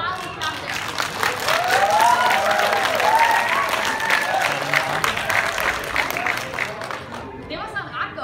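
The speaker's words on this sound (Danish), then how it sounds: "Fedt, så skal vi have første klapsalve for jagthistorie om skyttefesten. Hvor meget vil I klappe der?" Studio audience applause for a hunting story about a shooting festival, a dense, sustained wash of many hands clapping with cheers and crowd voices mixed in, steady and loud throughout.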